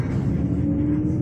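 Cabin of a moving Primajasa economy AC bus, a steady low rumbling drone of engine and road with a faint tonal hum, no talking.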